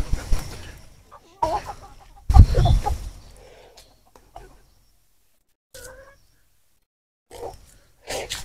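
Chickens roam among banana trees in an orchard, giving scattered short clucks and calls in bursts separated by quiet gaps, with some brief voice sounds mixed in.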